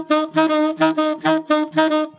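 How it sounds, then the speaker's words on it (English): Tenor saxophone alternating between middle C played with the low-C fingering and middle C fingered normally, sounding six even, separate sustained notes in a steady rhythm, played solo and close. "you finger your low C, but you're going to play middle C, but you're going to alternate it with the actual middle C"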